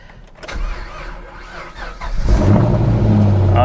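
A used car at a Copart auction yard cranks and starts, then its engine catches and settles into a loud, steady run close by with no speech.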